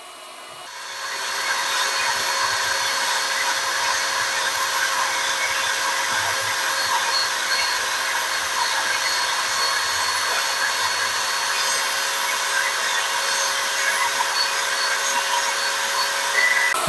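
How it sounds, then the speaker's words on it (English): A heat gun blows steadily to soften glue on the brass fitting of a split cane fishing rod, a loud, unbroken hot-air roar that starts after about a second and holds evenly to the end, with no talking. "So be careful where you put down your heat gun, because remember it's hot."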